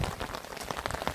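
Rain falls steadily on surfaces, a soft, even patter of drops heard close and continuous with nothing else over it.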